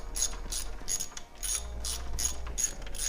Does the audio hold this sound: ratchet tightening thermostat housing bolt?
yes